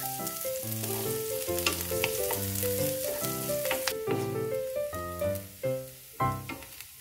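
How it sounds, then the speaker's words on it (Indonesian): Sliced shallot and garlic seasoning is sautéed in oil, producing a gentle, continuous sizzle with occasional stirring sounds, mostly under prominent melodic background music. "Jadi bumbunya ditumis dulu ya, Mam. Nah, ini saya mulai menumis."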